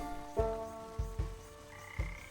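A frog croaks in the video game Wytchwood: several short, low, throaty croaks at uneven intervals, fairly close and clear over a quiet backdrop with no talking.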